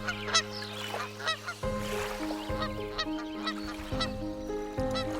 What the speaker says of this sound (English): attracting large numbers of migrating giant Canadian geese